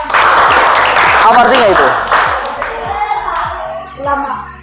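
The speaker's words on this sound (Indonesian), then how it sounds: "Tepuk tangan." A classroom group of children claps together for a classmate's birthday song, a ragged burst of applause under a teacher's voice that tapers off as she speaks.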